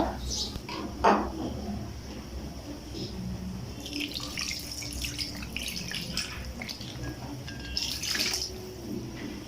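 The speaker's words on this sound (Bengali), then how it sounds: "এখন হচ্ছে এটার মধ্যে আমি পানি দিয়ে দিব।" Water is poured from a cup into a clay pot holding small fish mixed with spices, a splashing, trickling stream under steady kitchen background noise, with a few brief clinks.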